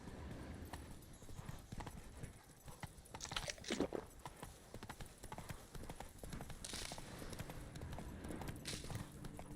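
Hooves of Roach, the horse in The Witcher 3, clip-clop in a steady rhythmic gait, close and moderately loud, with a brief snort or whinny partway through and faint outdoor ambience.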